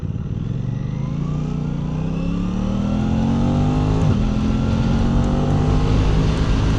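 An Aprilia RS660 sport motorcycle rides along the road, its engine droning steadily and loudly up close with wind noise, the pitch climbing gradually and dipping briefly at a gear change midway.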